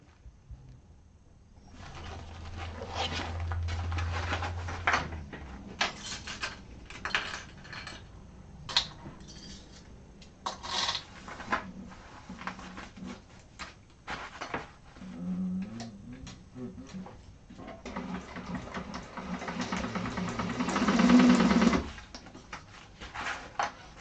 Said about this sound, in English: My needle makes a funny sound going over the glitter.